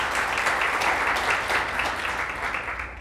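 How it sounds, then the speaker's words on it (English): Audience applause at a sponsored event, steady and dense throughout, loud and continuous with no voices over it, tapering slightly toward the end. "One more round of applause."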